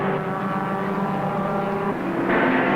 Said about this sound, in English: the Bainbridge Motors Mazda of Mel Mollison and Bruce Hindhoff. An RX-3 Coupe, it's now made its way out onto the circuit